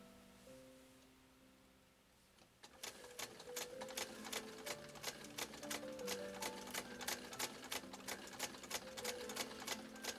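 A 1922 Singer 99K hand-crank sewing machine stitches through Italian leather, starting after a quiet moment with a rapid, steady run of sharp clicking needle strokes, close and clear.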